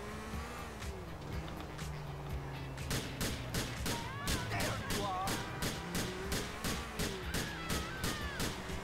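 Rapid, evenly spaced gunshots crack out while a car speeds along a highway in the video game GTA IV. The shots start a few seconds in and keep a steady rhythm to the end, over a constant engine drone, with voices talking underneath.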